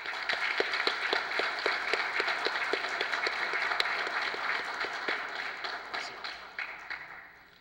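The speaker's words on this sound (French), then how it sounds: "je ne pense pas qu'il serait de trop de vous demander une fois de plus de les applaudir chaudement" Warm audience applause for young people at a gathering, a steady patter of many hands clapping at moderate distance that fades toward the end.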